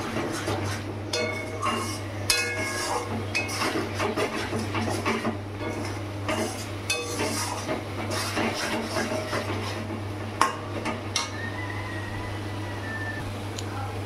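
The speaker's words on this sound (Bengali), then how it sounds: "তো মশলাটা একটু নাড়ি চাড়িয়ে মিশিয়ে নিচ্ছি।" Spice masala stirred in a pot for mutton curry on a gas stove: irregular metallic clinks and scrapes of a spoon against the pot over a constant low hum.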